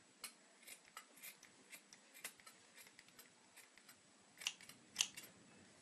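Scissors snip through a large black sock at the toe end, a string of faint, quick clicking cuts at an uneven pace, with two sharper snips near the end.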